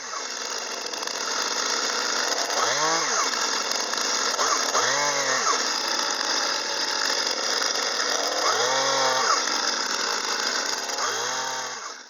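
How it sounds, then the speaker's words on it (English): Chainsaw idling loudly near a log, revved in four short bursts to cut small tick marks, each rise and fall of engine pitch standing out over the steady running drone. "I just took the chainsaw, made some little tick marks as to where my cut is going to be."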